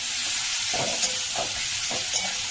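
Onions fry and get stirred in a pan for a mutton dish, with a continuous hissing sizzle broken by a few soft scraping stirs at regular intervals.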